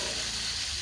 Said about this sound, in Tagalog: Hintayin lang muna natin siyang maging golden brown. Ayan guys, mukhang mahina na yung tilampik ng mantika.